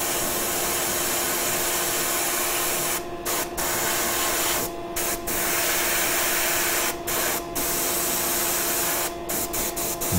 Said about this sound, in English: That's the thing about airbrushing. It's not exact.